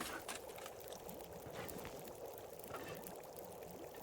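Water pours steadily in a continuous, close splashing stream while tea is being made, with no talking over it.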